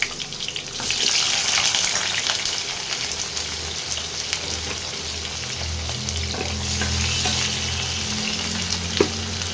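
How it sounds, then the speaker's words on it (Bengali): Roughly cut onions frying in hot oil for a Bengali shahi handi chicken masala, a steady close sizzle and crackle that continues throughout with a few faint stirring knocks and no talking. "তেলটা গরম হয়ে গেছে। এই তেলের মধ্যে 2টো পেঁয়াজ রাফলি কেটে দিয়ে দিতে হবে।"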